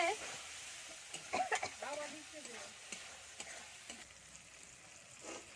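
Spice masala with coriander powder sizzles quietly in a pan while being stirred, with soft scraping and crackling throughout.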